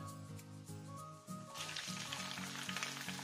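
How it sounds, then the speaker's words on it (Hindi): Chopped tomatoes hit a pan of hot oil with yellow mustard seeds and dried red chillies, the sizzle rising suddenly halfway through into a bright, steady hiss over low rhythmic kitchen knocks. "अब इसमें कटे हुए टमाटर डालेंगे।"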